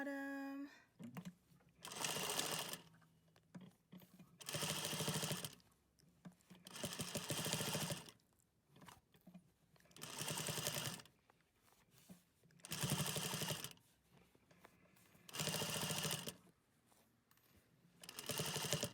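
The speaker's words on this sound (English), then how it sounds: "And then we're going to sew the bottom." A sewing machine stitches the bottom edge of a fabric face mask in repeated bursts of rapid whirring, about seven runs separated by short pauses, close and clear.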